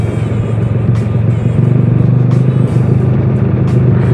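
A Yamaha Jupiter Z 115cc motorcycle fitted with a loud CLD Racing brong exhaust revs close by, its rough, pulsing engine note rising and falling in short throttle blips with no talk over it.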